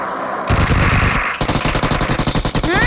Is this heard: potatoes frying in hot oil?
no